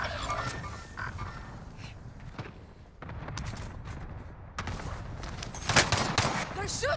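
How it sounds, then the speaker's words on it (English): Gunfire rings out in a first-person military shooter match, bursts of rapid shots and scattered single cracks over several seconds, mixed with game announcer voices and background clutter. "They're shooting at me!"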